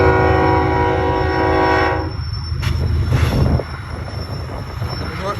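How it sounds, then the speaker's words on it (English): A BNSF double-stack freight train with several locomotives sounds a loud, sustained horn up close, then rumbles and clatters steadily past. "we got a whole bunch of power here on a stack train"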